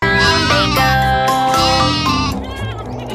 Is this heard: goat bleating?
yes